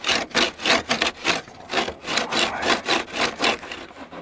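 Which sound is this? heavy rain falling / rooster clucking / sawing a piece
sawing a piece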